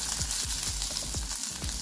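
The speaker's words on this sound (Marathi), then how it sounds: "कढई माझी गरम झाली, त्यात मी 2 चमचे तेल टाकून घेतले। त्यात लगेचच हा कांदा टाकून घ्यायचा आहे" Thinly sliced onion frying in two spoons of hot oil in a kadai, a steady close sizzle with short rhythmic scraping strokes of stirring repeating about every quarter second, no voices.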